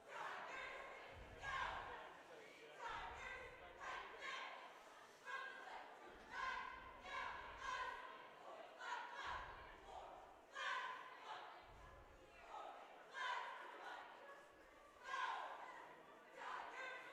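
Varsity cheerleaders at a girls basketball game chant in rhythmic bursts that repeat every couple of seconds, a crowd of voices heard from a distance in a gym.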